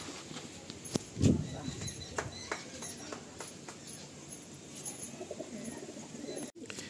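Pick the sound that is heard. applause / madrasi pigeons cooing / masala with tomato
madrasi pigeons cooing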